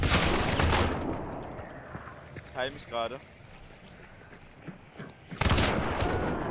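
Rapid bursts of video game gunfire in Hunt: Showdown open and close the stretch, with someone speaking briefly during the quieter middle.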